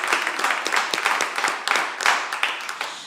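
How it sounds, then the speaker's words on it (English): Audience applause and clapping for June Star at the end of a live WDVX Blue Plate Special radio show set, a dense steady roar of many hands, moderately loud and continuous throughout. "how about one more round of applause for June Star, the first half of the show here today?"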